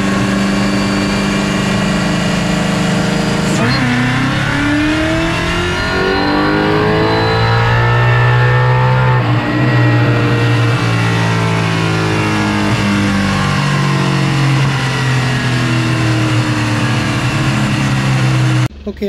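A Coyote V8-swapped Ford Fairmont Foxbody accelerates hard under supercharger boost, its loud close engine note climbing steadily through a long pull and then holding a high, strained drone inside the cabin.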